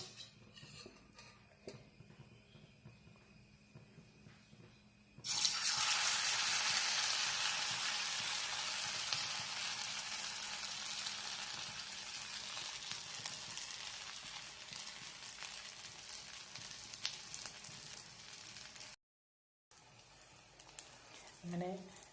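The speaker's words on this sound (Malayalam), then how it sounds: "ഞാൻ ഓരോന്നോരോന്നായി വറുത്ത് കോരുന്നുണ്ട്" Egg bhaji frying one piece at a time in hot oil, a loud steady sizzle that starts abruptly and keeps up continuously, easing slightly as it goes, with a brief dropout near the end.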